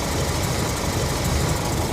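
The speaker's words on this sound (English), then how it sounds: "Once you've got the car running, you set that and leave it alone." A Ford Model T engine runs steadily while the car drives in top gear on the open road, a loud, close, continuous mechanical drone with rough knocking texture and no voices.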